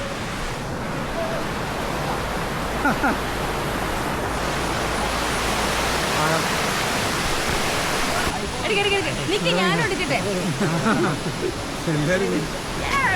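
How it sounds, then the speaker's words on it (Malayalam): Water splashes and rushes continuously from a small waterfall at Mamalakandam, loud and close, with voices talking over it. "ഇവിടെ ചെറിയൊരു വെള്ളച്ചാട്ടമൊക്കെ ഉണ്ട്"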